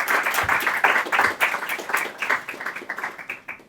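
Audience applause at an aviation leadership and professional development event, welcoming the managing director and CEO of Athens International Airport: a steady, fairly close wash of many hands clapping throughout, gradually thinning toward the end.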